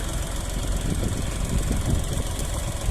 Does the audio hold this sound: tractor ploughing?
yes